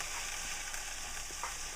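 Raw chorizo sizzles steadily in a hot buttered pan, a continuous close frying hiss with a few faint spatters and no voices.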